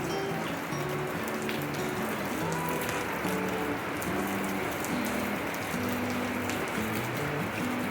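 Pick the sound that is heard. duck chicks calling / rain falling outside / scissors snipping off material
rain falling outside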